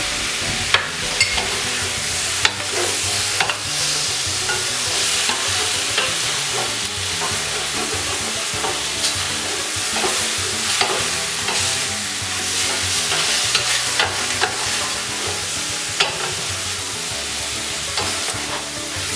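Brazilian-style pork seasoned with paprika, cayenne and cumin cooking on a stovetop, a loud continuous sizzle with frequent rhythmic stirring and scraping of a utensil against the pan, close up.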